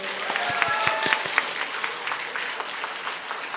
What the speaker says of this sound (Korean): 이때 이제 박수를 치는 겁니다.